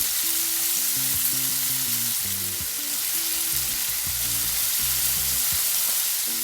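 Chicken breast searing in a pan with a loud, even hiss of frying that holds steady throughout under background music, with no voices.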